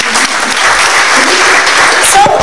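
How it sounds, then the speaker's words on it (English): Loud, dense audience clapping fills a hall at a national-level coding event, steady and close throughout, with a few voices and cheers mixed in near the end. "Yeah, we can clap for that, I suppose."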